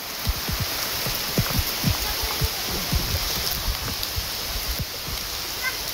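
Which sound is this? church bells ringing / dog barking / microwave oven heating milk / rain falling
rain falling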